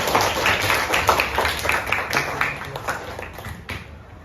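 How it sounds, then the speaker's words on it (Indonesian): Classroom applause: a group of students clapping for about four seconds, the quick rhythmic claps fading toward the end, with faint voices behind. "kasih tepuk tangan untuk kalian semua"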